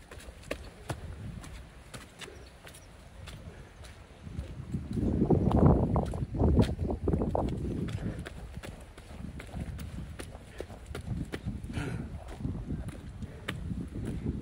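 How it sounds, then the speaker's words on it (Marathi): Strong wind buffets the microphone on a hilltop fort during the monsoon, a rough low roar that swells into a heavy gust midway and then settles into steady rushing, with no speech. "वारा फार जोरात लागतो इथून."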